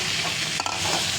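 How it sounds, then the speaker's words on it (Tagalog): A spatula stirs fried rice with egg and ground meat in a hot pan, giving a brief soft sizzle and scrape with one small clatter midway, close up and without voices. "ihalo na lang ng ihalo. Hanggang sa maluto."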